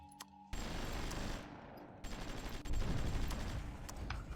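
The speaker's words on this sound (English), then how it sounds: "Oh, we can hear some shore bombardment here again." Naval shore bombardment in the strategy video game Supremacy rolls on as a dense, continuous barrage of distant gunfire that swells louder partway through.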